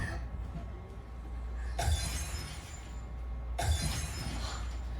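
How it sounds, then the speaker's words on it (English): Car headlights are smashed in two sharp bursts of shattering glass a couple of seconds apart, each a loud, close crash followed by tinkling debris over a low steady background rumble. "You're smashing out my headlights!"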